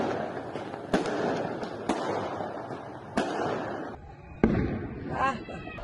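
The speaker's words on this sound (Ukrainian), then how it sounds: "Це традиційно з салютами." Fireworks go off in a series of sharp bangs spaced a second or so apart, followed by crackling bursts, heard from some distance.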